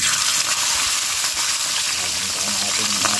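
Fish frying in hot cooking oil, a steady loud sizzle and crackle that carries on without a break.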